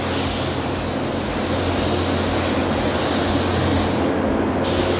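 Spray gun spraying waterborne base coat onto raw plastic in a steady, loud, continuous hiss that holds for several seconds and cuts out briefly near the end, with no talk.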